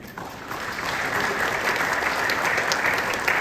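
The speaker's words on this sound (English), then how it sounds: "Ladies and gentlemen, a round of applause." Sustained audience applause at the close of an oil industry presentation at a GLOBOIL India conference, a dense, steady wash of many hands clapping throughout.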